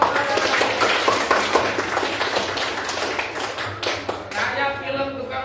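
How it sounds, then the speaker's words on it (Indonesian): Applause in a classroom lesson for a student group, a room full of people clapping in quick, uneven bursts that stay close and fairly loud, then tail off into scattered claps and murmuring. "Tepuk tangan untuk kelompok 2."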